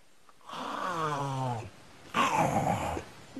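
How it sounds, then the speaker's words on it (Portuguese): A giant snake swallowing its prey gives off a snoring, growl-like rumble in two close, loud bursts, the second raspier than the first, with a short pause between them. "Ela fazia um som que parecia um ronco."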